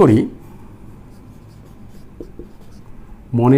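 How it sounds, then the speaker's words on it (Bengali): Chalk or marker scratching on a board during a chemistry lecture, a soft continuous scraping with a few brief taps, flanked by short bursts of voice at the start and end. "দেখো আমরা লিখব"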